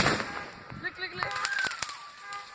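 Backyard fireworks crackle and pop in a quick scatter of sharp bursts, with a whistling rising tone partway through, heard close under excited talk from a few people.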